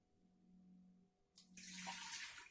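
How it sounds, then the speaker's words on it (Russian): Warm water poured into a cooking pot while making Mordovian pancakes, quiet room hum first, then a sudden bright splashing stream that runs on steadily near the microphone. "Наливаем теплую воду в кастрюлю"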